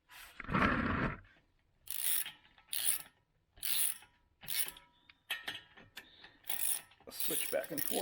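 A socket ratchet clicks through repeated rapid strokes as it turns the bolts pushing off a brake rotor on a 2006 Lexus IS350, close and crisp in rhythmic bursts after a brief rustle.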